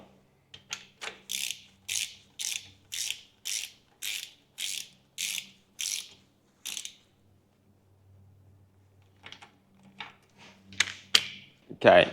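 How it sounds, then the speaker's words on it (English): Ratchet tightening a drain plug on a Toyota Hilux N70 front differential clicks in a steady run of about a dozen close, crisp strokes, then a few slower clicks after a pause. "Now that oil's finished draining, I'm just going to install the drain plug."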